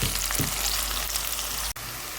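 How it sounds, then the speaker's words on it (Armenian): Bell peppers frying in a pan give a steady close sizzle, with a brief stirring scrape near the start and a sharp click followed by a slight drop toward the end. "թող մի քիչ էլ տապակվի։"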